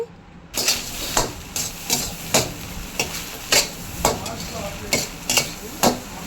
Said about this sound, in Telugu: మసాలా కారం అన్నీ రైస్ పట్టే విధంగా బాగా తిప్పుతూనే ఉండాలి